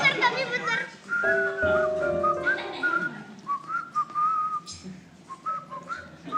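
A man whistles a song intro, with clear melodic phrases that rise and fall, then gives way to laughter and chatter from several people.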